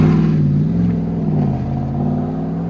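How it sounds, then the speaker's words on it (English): A 2016 RAM 1500 truck with a 5.7L HEMI V8 and a Flowmaster Super 44 exhaust gives a loud, deep, burbling idle rumble close by that holds steady with slight swells throughout. "That's a good sounding truck right there."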